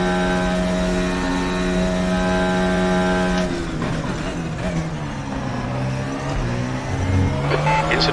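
Simulated FRX22 race car engine in RaceRoom at Imola, a steady, loud harmonic drone as the car pulls out of the pits, shifting pitch partway through, with other car noise in the mix.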